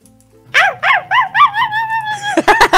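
A person imitates a dog barking as a game penalty, giving a quick series of about six yapping barks that rise into higher yips, loud and close.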